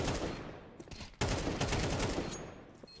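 Counter-Strike gunfire during a competitive match: dense, rapid bursts of automatic rifle shots, loud and close, with a sharp break partway through before firing resumes.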